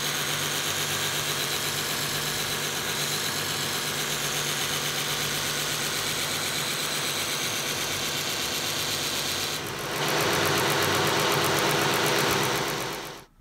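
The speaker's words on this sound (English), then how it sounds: "And this is the new Ameribraze grinder that I have. And so I've got an ultra fine, kind of a Scotch-Brite type belt on here." Ameribraze belt grinder running an ultra fine Scotch-Brite type polishing belt, a loud continuous whirring hum with abrasive hiss that shifts and brightens near the end before cutting off.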